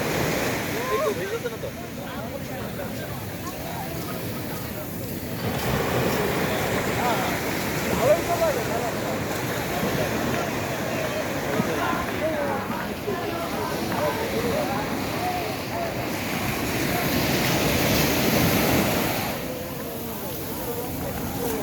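Roaring sea surf on a cold full-moon winter night at Cox's Bazar beach, a steady broadband wash of breaking waves with wind buffeting the microphone, surging louder near the end.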